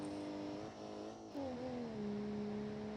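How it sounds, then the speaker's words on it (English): A loud, raw car engine with its exhaust lost in a video game drones steadily, its pitch dipping and then settling lower as it shifts gears, with no voices. "Now this car would be very loud."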